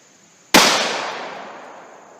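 A single sharp, loud gunshot from a MAC Bullseye 1911 Longslide pistol in .45 Super, with a long reverberating tail that fades over about two seconds.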